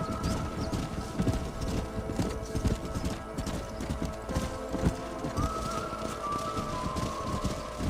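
Several horses gallop in the Red Dead Redemption video game, a loud, continuous rhythmic clatter of hooves with a neigh partway through and no talking.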